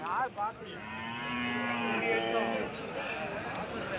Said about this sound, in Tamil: பால் மாடெல்லாம் பார்த்துட்டு இருக்கிறது சேலம் மாவட்டம் முத்தநாய்க்கின்பட்டி பெருமாள் கோயில் மாட்டுச்சந்தை